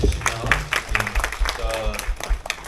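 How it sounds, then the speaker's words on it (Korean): An audience at a carbon-neutrality talk concert in Suwon claps in a brief burst of applause, with voices mixed in underneath. "박수 한번 이렇게 보내주시면"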